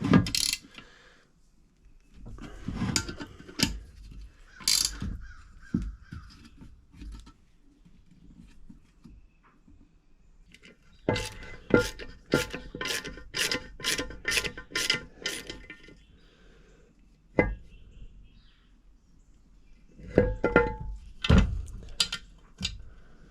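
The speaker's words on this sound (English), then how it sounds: "Don't want to go too tight on that one for sure till I put the nut on it." Ratchet clicking in quick repeated bursts while tightening a nut during transmission repair on a 2017 Polaris General; close, crisp ratcheting with pauses and scattered tool clatter between runs.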